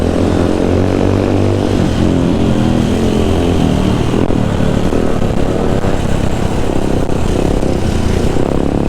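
A Husqvarna FE 501 motorcycle revs and accelerates hard on a dirt flat track at Mâcon, its engine a loud, continuous close roar that holds steady throughout with no talk over it.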